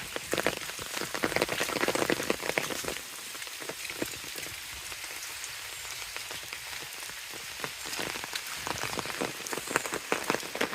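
Steady rain patters on surfaces in a Bangladeshi village, a dense, even hiss of drops that stays close and continuous, easing slightly midway before picking up again, with no one talking.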